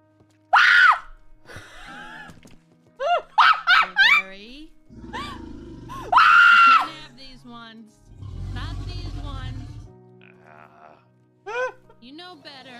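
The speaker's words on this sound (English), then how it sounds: "Why is he screaming like that?" A character in the Wild RP roleplay video game lets out several loud, strained screams in short bursts, with gasps and groans between them and other voices talking in the background.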